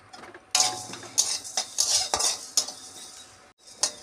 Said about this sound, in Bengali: শুকনো কড়াইতে ধনিয়া আর জিরা একটু টেলে নেব